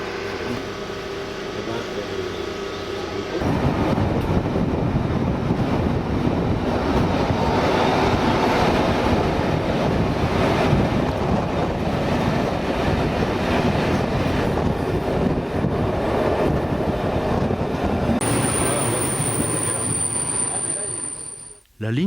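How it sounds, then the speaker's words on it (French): An express train runs along a single-track line in South Moravia, a steady loud rumble of wheels and carriage with faint rhythmic clatter, heard from on board, beginning abruptly and fading out near the end. "Notre express assure une bonne desserte locale."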